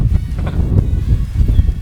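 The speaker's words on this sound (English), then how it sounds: "As you can see, it's windy, and I'm sure you can hear it" Wind blows outdoors, buffeting the microphone with a loud, gusty low rumble that rises and falls in uneven pulses throughout.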